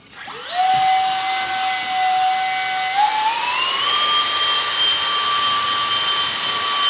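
A small E-flite Viper 30mm EDF jet model plane spools up with a loud, close, steady high-pitched whine that rises in pitch as the throttle is pushed further, then holds at full thrust.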